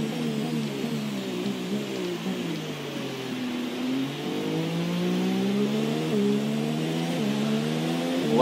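Race car engines rev and whine through a Grand Prix race in the F1 2017 video game, several cars rising and falling in pitch close together, a steady loud blend with no talk.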